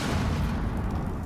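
A grenade blast in the tactical shooter game Rainbow Six Siege, a loud, dense burst of rumbling boom that fills the short moment without any voices over it.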